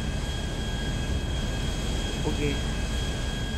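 An airplane engine in GTA Online drones steadily and evenly throughout, with a broad roar and faint whining tones, while a voice briefly says a single word over it.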